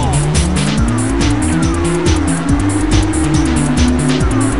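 Race cars in the video game Fatal Racing roar continuously as they accelerate, with repeated tire squeals and skids over a loud, steady engine drone.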